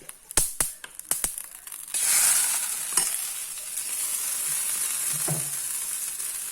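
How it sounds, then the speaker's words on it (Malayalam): Mustard seeds splutter in hot oil for a curd bajji tempering: a quick run of sharp, close pops gives way to a steady, loud sizzle with a few more scattered crackles. "കടുക് പൊട്ടി കഴിഞ്ഞു"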